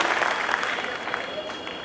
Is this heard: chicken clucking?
no